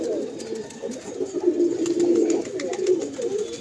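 Domestic pigeons kept for sale at a home loft coo in a steady, overlapping murmur of low, rolling calls, close by and continuous, with no talking.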